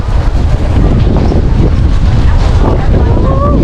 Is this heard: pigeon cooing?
no